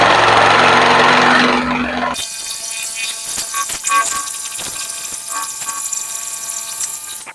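A power saw cuts slowly through wood along a marked line in a woodshop, a loud steady whine with rough grinding bursts, after a dense motor roar in the first two seconds.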